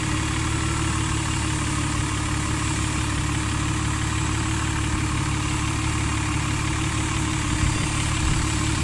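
A big car engine, likely in a Chrysler, idles steadily nearby with a constant low rumble and vibration throughout, loud and alone with no talk.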